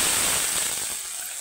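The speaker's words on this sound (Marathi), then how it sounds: "यात पाणी टाकून देणार आहे।" Water hits a hot pan of cumin and coriander tempering for a spicy gram-flour masvadi curry, throwing up a loud, broad sizzle that starts at full force and fades steadily over about a second and a half, with no talking.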